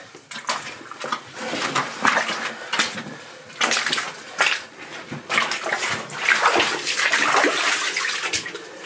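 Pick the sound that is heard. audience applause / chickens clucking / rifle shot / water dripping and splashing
water dripping and splashing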